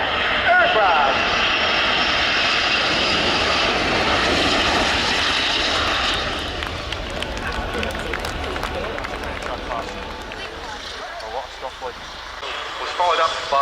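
The Patrulla Águila aerobatic team of seven jet aircraft flies a display at the 2018 Fairford airshow, a loud, sustained jet roar that swells and then eases slightly as the formation passes overhead.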